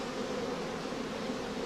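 Honey bees crowd over a comb lifted out of the hive, making a steady, faint, close buzzing hum with no breaks.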